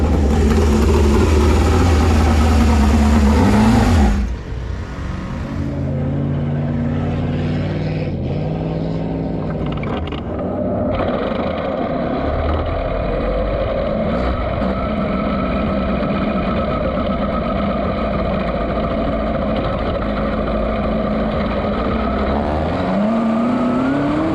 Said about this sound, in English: Smith Titanium number 19 car making his way down the back straightaway